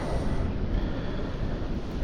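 Strong wind buffets outdoors, a dense, steady roar that dominates the whole moment without a pause.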